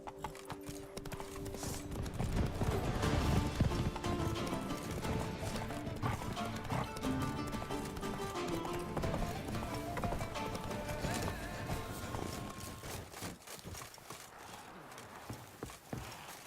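Hooves of Roach, the horse in The Witcher 3, clop in a fast galloping rhythm, loud and close, with brief neighs among them, and a faint voice underneath.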